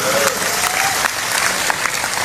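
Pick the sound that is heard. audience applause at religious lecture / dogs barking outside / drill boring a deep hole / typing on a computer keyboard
audience applause at religious lecture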